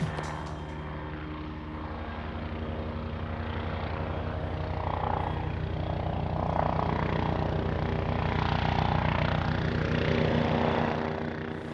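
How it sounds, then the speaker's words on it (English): A helicopter's rotor thumps steadily with a deep engine drone, holding close and loud throughout with no voices. "when that helicopter suddenly appeared below you in the cloud"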